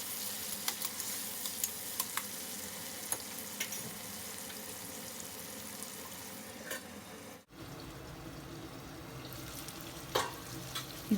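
Chopped onions and tomatoes sizzle gently in a covered-style pan, a steady faint frying hiss with occasional stirring clicks, briefly cut off midway before resuming, with no talking.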